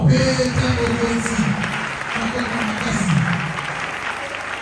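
A church congregation applauds to acclaim the king, with steady, close, loud clapping throughout and voices mixed underneath it.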